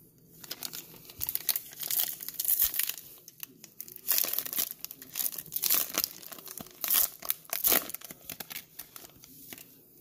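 The foil wrapper on a pack of 2019 Bowman Platinum baseball cards is torn open and crumpled up close. Loud crinkling bursts come in irregular clusters with short pauses between them, and no one speaks.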